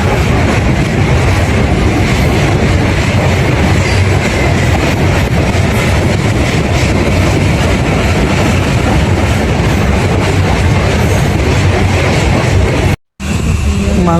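Riding inside a moving train gives a loud, constant rumble with rhythmic clickety-clack of wheels over rail joints, steady and close for the whole stretch apart from a brief dropout near the end.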